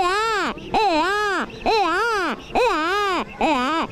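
A performer imitates a baby crying using cupped hands and a harmonica-like reed tone, giving four loud wailing rising-and-falling cries with short gaps between them.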